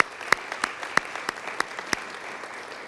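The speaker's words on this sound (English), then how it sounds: "Let's give them a round of applause" An audience applauds at a state governor's education announcement event, a dense wash of steady clapping with a few sharper, louder claps standing out over about three seconds.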